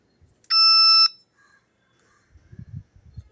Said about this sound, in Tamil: உங்களுக்கு பீப் சவுண்ட் கேட்குதுல, ஸோ இதுதான்.